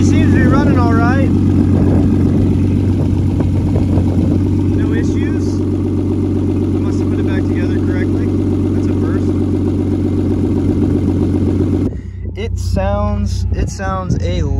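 Toyota Supra turbo engine idling steadily after its first start on new spark plugs, a loud, close, continuous rumble that holds for most of the clip and then drops slightly near the end as someone talks.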